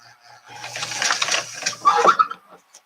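A sewing machine runs a short zigzag burst while stitching a makeup pouch, a close, buzzing mechanical chatter lasting about two seconds with a brief whir at the end.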